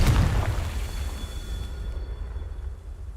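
Confringo fire spell explosion in the Hogwarts Legacy video game, a loud burst at the start followed by a rumbling decay that fades over a few seconds, with no talk.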